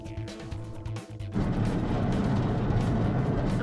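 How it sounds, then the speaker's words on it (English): A heavy door closes in Zero Escape: Virtue's Last Reward, a deep rumbling slam that cuts off a low tonal game drone and is followed by a sustained, loud, noisy roar. "I'm assuming that's the sound of the door close"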